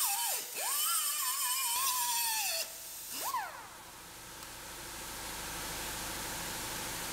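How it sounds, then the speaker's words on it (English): A grinder works metal on a collision-damaged dump trailer, whining up and down in pitch in short bursts before fading into a steady broad hiss. "Grind a little bit more off."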